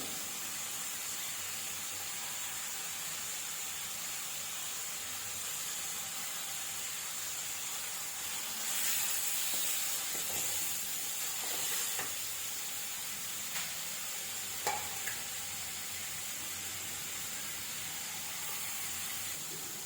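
Mushroom and grated coconut sauté in a pan for kurma, a soft continuous sizzle and hiss with occasional brief scrapes of a stirring utensil, no one speaking.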